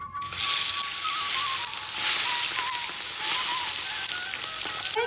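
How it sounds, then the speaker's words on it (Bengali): Katla fish pieces rubbed with salt and turmeric fry in hot oil, giving a continuous close sizzle with bursts of crackling spatter and a faint tonal whine running underneath; no one speaks. "এবার আমি মাছগুলো এক এক করে ভেজে নেব।"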